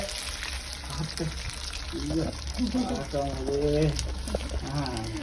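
Andhra-style raw fish fry crackling in a pan, a steady sizzle and spatter running under a person talking throughout.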